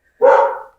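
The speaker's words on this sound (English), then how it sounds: "There's so many dogs, street dogs, unfortunately." One short, loud bark from a street dog in Ecuador, close by and alone in an otherwise quiet moment.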